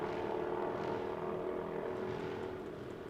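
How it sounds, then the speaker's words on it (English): Nitro drag racing motorcycles at the AMRA Ohio Nitro Nationals run at full throttle, producing a loud, steady engine roar with a constant droning pitch that holds for the whole span before easing slightly at the end. "They've got them throttles rolled just as far open as they can get them."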